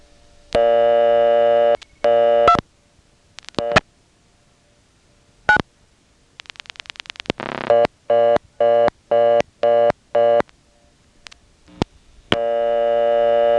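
Interrupted telephone tones beep on and off over a line from a step-by-step telephone exchange in Nantes, Quebec, with a selector busied out, clicks and pulse-dial bursts between them, ending in a steady tone.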